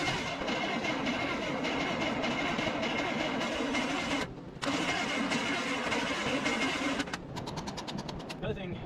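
A 1984 Chevy truck engine, left rotting in the woods, cranks steadily with a rapid repetitive churn, pauses briefly, then cranks again before fading into faster ticking.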